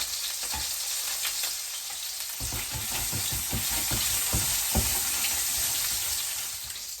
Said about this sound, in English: this is what I mean by a nice even sear all around that meatball.